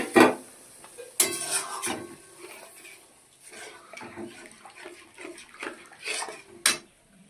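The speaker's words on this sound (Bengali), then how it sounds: "এবারে পুরো দুধটা আমি দিয়ে দিচ্ছি নারকেলের।" Prawn curry in a pan stirred after coconut milk is poured in, with wet sloshing, spoon scrapes and intermittent clinks against the pan in uneven bursts.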